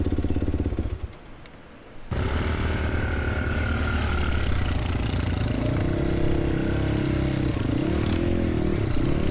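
Off-road motorcycle ridden across large rocks in a flooded riverbed, the engine droning and revving loudly and close, with clattering scrapes from the stones, after a brief drop near the start.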